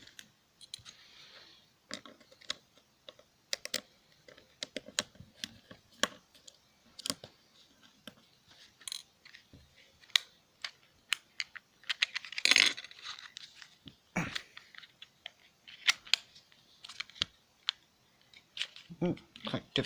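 An old PlayStation 2 memory card being pried open, with sharp plastic clicks, snaps and scraping in irregular bursts up close and one louder crack partway through.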